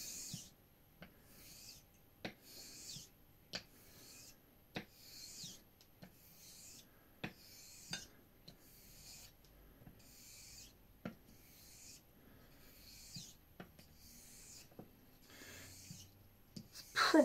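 A Filly 14 tridur straight razor is honed on a sharpening stone in slurry, about a dozen evenly spaced, close, soft rasping strokes, each ending in a faint click.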